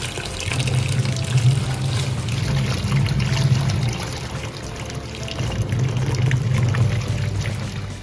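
Washing machine running a load of bedsheets and a carpet, a continuous sloshing churn of water with a low rumbling drum that swells and eases in cycles, close and steady.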